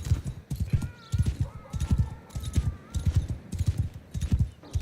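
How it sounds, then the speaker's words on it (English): Horse hooves clip-clopping in the video game Mount & Blade II: Bannerlord: a steady, rhythmic gallop of close, loud hoof beats, with faint whinny-like tonal sounds drifting above in the middle. "In fact, can I get off the horse?"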